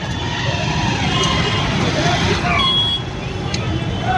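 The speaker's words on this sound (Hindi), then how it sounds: "और साथियों इंदौर का ट्रैफिक दिखाते हैं आपको," Busy road traffic in an Indore market street, a dense continuous roar of cars and trucks with passing engines and distant horn blips, crowd babble mixed in.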